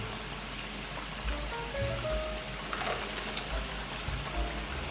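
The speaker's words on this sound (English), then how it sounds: "Begin to add the coated peanuts right inside the oil and then fry gradually." Coated peanuts (flour-coated, commercial style) dropped into hot frying oil, giving a steady soft sizzle and crackle that carries on throughout with a few brief clinks near and moderately loud.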